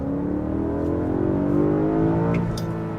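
A BMW E90 M3 engine revs steadily upward toward its roughly 8,250 rpm redline, a loud continuous wail with rising harmonics, heard close and alone without talk.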